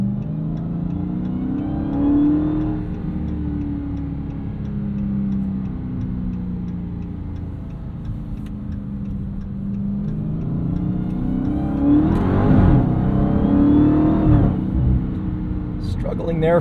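A 2023 Dodge Charger SRT Hellcat Jailbreak with a 717 hp engine and 8-speed automatic pulls hard under a steady loud engine drone, with rising revs and a burst of shifts and blips near the end, heard from inside under a speaking voice.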